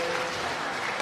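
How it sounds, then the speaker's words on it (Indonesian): A church congregation at an anniversary Mass claps for a nun, a brief dense patch of applause heard from within the hall. "Tepuk tangan untuk Suster."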